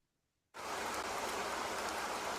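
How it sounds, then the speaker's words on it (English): Steady rain played back from an iPhone or iPad shortcut, kicking in abruptly after a half-second of silence and then holding as an even, full hiss of rainfall with no voices. "I have the sound of rain now."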